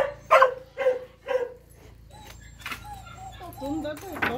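A hunting dog barks three times in quick, loud bursts nearby, then lets out a few softer yips and whines while people talk over a low background hum.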